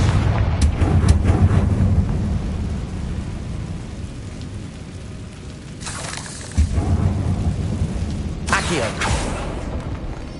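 Confringo explosive spell in the Hogwarts Legacy video game, heard as two loud, rumbling blasts about two seconds apart over a steady low roar of game ambience.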